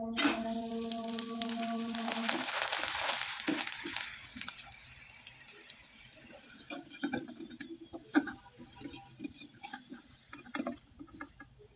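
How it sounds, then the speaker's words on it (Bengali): Homemade flour designer chips frying in hot oil, a steady bright sizzle with crackling and soft scraping stirs, loud at first then settling into irregular popping and ticks, close up with no talking. "আমি কয়েকটা চিপস আপনাদের ভেজে দেখিয়ে দিচ্ছি।"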